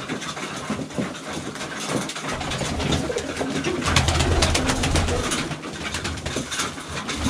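Baku wide-tailed pigeons coo in low, throaty, repeated calls over a busy outdoor background. Rustling and fluttering noises come and go, and no one speaks.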